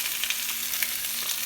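Chicken pieces brown in a hot pan for a creamy mushroom chicken, giving a bright, steady sizzle with small popping bursts, close up and uninterrupted by speech.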